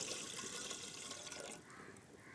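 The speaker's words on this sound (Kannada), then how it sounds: "ರಾಗಿ ಮುದ್ದೆ ಮಾಡಲಿಕ್ಕೆ ಒಂದು ಸಣ್ಣ ಪಾತ್ರೆ ತಗೊಂಡಿದ್ದೀನಿ ಇದಕ್ಕೆ ಒಂದು ನಾಲ್ಕು ಕಪ್ನಷ್ಟು ನೀರು ಹಾಕ್ತಾ ಇದ್ದೇನೆ" About four cups of water poured into a small pot to make ragi mudde, a steady close splashing rush that softens slightly toward the end, with no talking.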